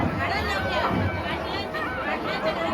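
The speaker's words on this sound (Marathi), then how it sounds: "भगवती देवीच्या मंदिरात गर्दी बघा दर्शनासाठी" A dense crowd of devotees packs the Bhagavati Devi temple during its annual Gondhal festival. Their steady, overlapping chatter forms a continuous babble of many voices at an even, moderate level throughout.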